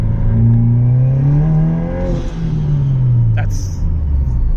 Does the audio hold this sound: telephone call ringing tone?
no